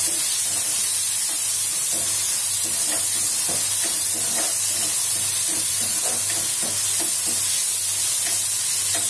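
Tomatoes sautéing with onions in a pan for a Kerala-style black chickpea curry give a steady, close sizzle, with faint stirring scrapes recurring throughout and no talk.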